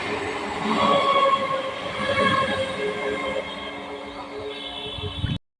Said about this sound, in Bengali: এখন সামনে দিয়ে বেরিয়ে যাচ্ছে লাল গলা প্যাসেঞ্জার ট্রেনটি যাচ্ছে শিয়ালদাহর দিকে